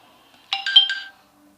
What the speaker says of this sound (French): Excusez-moi, ça c'est mon téléphone.